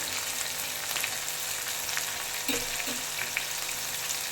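Round slices of bitter gourd fry in oil in a pan with a little turmeric, giving a steady soft sizzle with occasional stirring scrapes and taps, close and alone.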